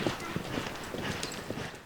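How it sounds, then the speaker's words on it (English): Hooves of a buckskin horse clip-clop in a steady rhythmic beat as it is ridden on a ranch trail, the steps close and moderately loud over outdoor background noise. "like this beautiful buckskin I'm riding, Peyton."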